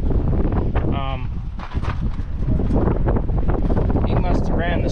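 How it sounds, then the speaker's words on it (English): Outdoor wind buffets the microphone beside a semi truck on a gusty day, a low rumbling roar that persists throughout while someone talks over it. "it's a little windy today"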